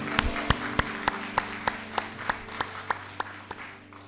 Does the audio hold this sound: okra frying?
no